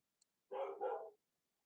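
A dog gives one quick two-part bark, close and fairly soft, in a quiet indoor room with nothing else around it.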